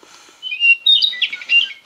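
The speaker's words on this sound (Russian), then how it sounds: "слушать пение соловьев" Bright, rapid nightingale song with high trills and chirps rings out clearly for a couple of seconds against a quiet background.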